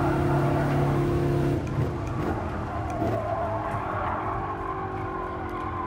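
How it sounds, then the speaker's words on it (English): Race car engines from the Gran Turismo Sport video game rev and drone steadily at close range, with a sharper engine tone in the opening seconds and a lower sustained hum afterward. "It looks like the car audio might be a little high."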